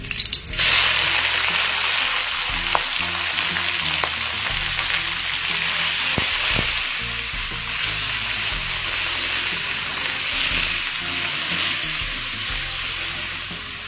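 Boiled clams hit a hot pan with shallots for an Acehnese stir-fried clam dish, bursting into a loud, steady sizzle with scattered clinks and stirring knocks throughout.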